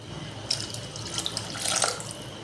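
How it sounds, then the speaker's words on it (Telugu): Water pours steadily into a pot of rice, one and a half glasses to one glass of rice, a close, continuous splashing rush that swells louder toward the end. "గ్లాసున్నర వాటర్ వేసుకుందాం"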